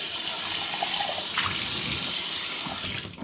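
Water runs steadily from a kitchen sink tap while dishes are washed, a close, continuous rushing stream that holds even for about three seconds before tapering off, with no voices.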